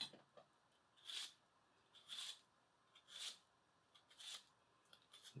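The tip of a Daovua full-tang kiritsuke knife slicing through an onion: four faint, evenly spaced crisp cutting strokes about a second apart, close up and otherwise quiet.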